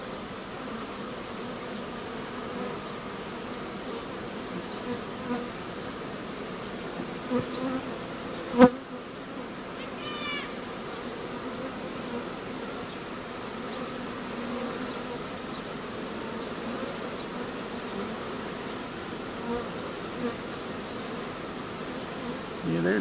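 A swarm of bees buzzes steadily around a tree during a hive transfer, a constant mid-level drone with a few louder passes close by and no talking.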